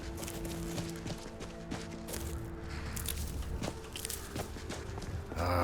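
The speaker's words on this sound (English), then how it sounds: "Ah, the horse stables." Horses at the stables in Whiterun, Skyrim video game, with scattered hoof clops and shuffling steps over soft ambient music, ending in a brief louder rustle.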